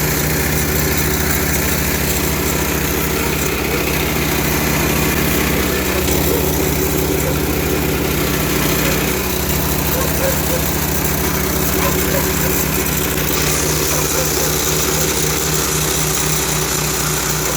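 A Princess Auto reversible plate compactor's small engine runs steadily and loud throughout, a constant buzzing drone with a fast pulsing rhythm and no pauses.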